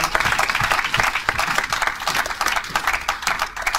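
A church congregation claps and applauds during a sermon, a dense steady wash of many hands sustained throughout at close, lively volume with faint voices mixed in.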